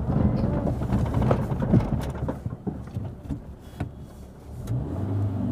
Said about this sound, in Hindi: अब देखो बैक गियर लगाएंगे, गाड़ी को पीछा करेंगे